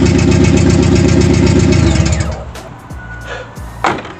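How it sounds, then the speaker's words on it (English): A rebuilt Ford Focus ST150 engine idles close up with a steady, loud, throbbing rumble for about two seconds, then shuts off, leaving quiet background noise and one brief knock. "The engine that we put in is running."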